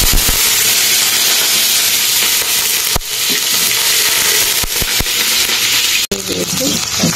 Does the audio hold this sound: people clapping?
no